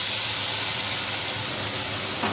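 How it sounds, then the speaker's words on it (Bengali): Spice-coated fish dropped into hot oil in a pan, a steady loud broadband sizzle that hisses evenly throughout with no talking. "এবার এর মধ্যে এই মশলাটা দিয়ে দেবো, মশলা মাখানো এই মাছটা দিয়ে দেবো।"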